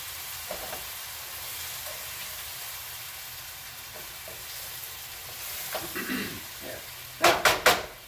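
Minced garlic sizzles in a frying pan, a steady soft hiss close by, with a few light clicks of a utensil and three sharp clanks of the pan near the end.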